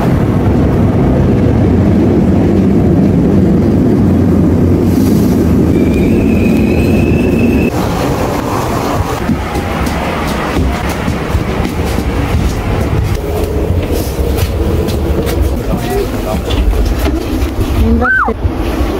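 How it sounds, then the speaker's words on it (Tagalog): A train rumbles steadily into a station, loud and close, with a brief high squeal of wheels or brakes near the end. "Andito na yung train namin."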